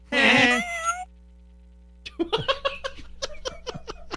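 A cat gives a loud, drawn-out meow near the start, followed after a pause by a burst of laughter and giggling from several people.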